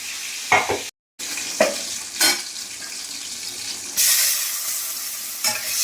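Prawns fry in a pan with a continuous hiss, broken by several short bursts of clatter from stirring, and the sizzle grows louder near the end.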